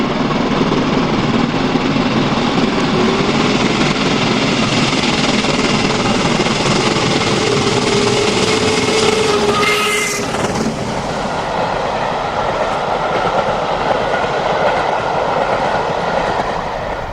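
Two steam locomotives, 45110 and 45407, haul the Mayflower train up the Whiteball climb on the line from Plymouth to Paddington. The heavy exhaust roar and rolling wheel clatter stay loud and continuous as the train passes close by.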